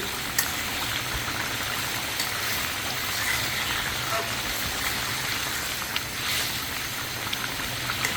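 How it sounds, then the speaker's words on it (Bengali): Koi fish being stirred in a pan of simmering oil and spices, producing a steady close bubbling and sizzling hiss that runs continuously with faint scraping underneath. "এই যে আমি মাছগুলো নাড়াচাড়া করে দিচ্ছি"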